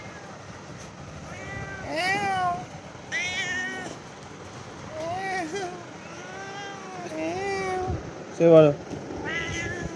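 A pet cat meows repeatedly indoors, a series of close, drawn-out meows spread across the clip with short pauses between them, while someone talks softly and imitates its meowing.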